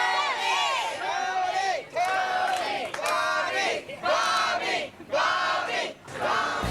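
A crowd at a cheesesteak cook-off chants and shouts in loud rhythmic bursts, about five surging waves of massed voices with brief dips between them.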